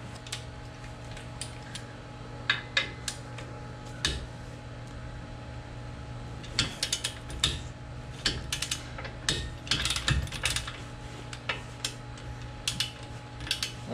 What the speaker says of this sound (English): So I'm going to grab my torque wrench